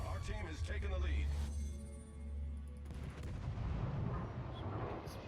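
Naval guns boom in World of Warships, a heavy, rumbling salvo that rolls on for a couple of seconds, followed by further distant thuds in the game's combat ambience.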